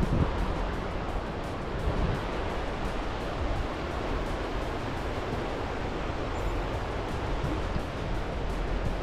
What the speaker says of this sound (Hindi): ये देखिए गाइस यहाँ एक नदी है जो इस टेंट के पीछे से बह रही है